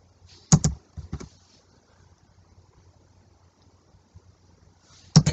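Typing HTML code on a computer keyboard: short clustered bursts of key clicks near the start, then a long quiet gap, and another burst at the end, close and fairly loud with no talk.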